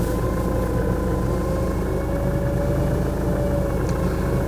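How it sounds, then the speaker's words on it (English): An off-road vehicle's engine idles steadily at close range, a constant low rumble with a faint mid-pitched hum running unchanged throughout, no voices over it. "I've got the engine running"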